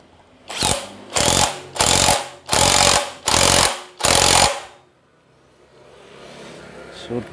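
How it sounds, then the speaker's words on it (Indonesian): Six loud, evenly spaced bursts from an impact wrench tightening intake manifold bolts on a Toyota Innova 2KD diesel engine during assembly, each about half a second long, followed by a quiet workshop background. "Kita kencangkan sekalian untuk baut asnokennya."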